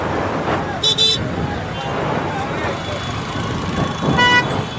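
Heavy road traffic near a crowded rickshaw stand outside a market, with a steady engine rumble and several sharp car horn toots, one near the start and a louder cluster near the end.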